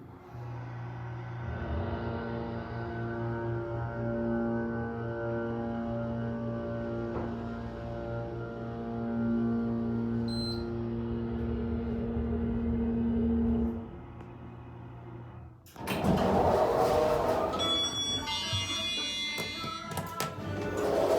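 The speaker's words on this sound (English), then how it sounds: "This thing has a really nice motor on it" A Montgomery KONE hydraulic elevator at a Macy's in Flatiron Crossing Mall hums with a steady, tonal motor drone for about fourteen seconds, then gives way to louder, brighter clattering mechanical sounds near the end.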